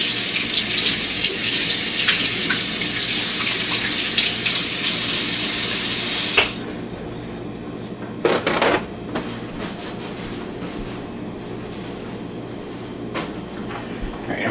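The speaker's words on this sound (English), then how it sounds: "I'm going to give my hands a quick wash." Hands being washed under a running kitchen tap while cooking cornmeal biscuits, a steady close hiss of flowing water for about six seconds, then the tap shuts off, leaving quieter splashes, drips and rubbing.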